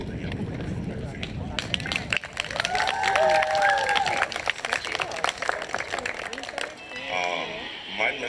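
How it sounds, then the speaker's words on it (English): Audience applause at an outdoor Juneteenth celebration, sustained dense clapping with cheers and whoops, fairly loud and steady, with voices audible through it. "get another round of applause for the young people from Durfee"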